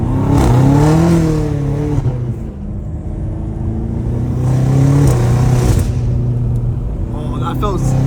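A straight-piped BMW M5 Competition revs loud and close, the engine note rising and falling in several pulls with a deep rumble beneath, while people talk over it.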